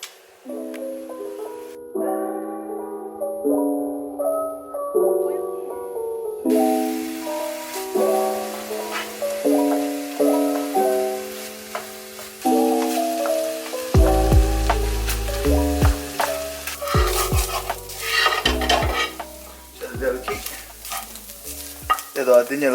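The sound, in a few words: stirring ground pork and beef for Thai larb in pan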